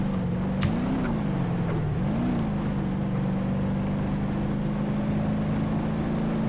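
A car driven in the BeamNG Drive simulation game hums with a steady engine drone, pitch rising and dipping briefly near the start before settling into an even, continuous tone with no voices.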